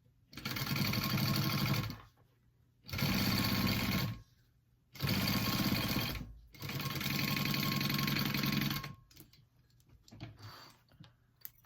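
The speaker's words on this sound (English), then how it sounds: "you're going to want to sew that down at a 1/4 inch seam allowance" Sewing machine stitching a quarter-inch seam on a fabric diamond clutch wallet, running in four loud, steady bursts of rapid mechanical whirring separated by short pauses, with faint handling noise at the end.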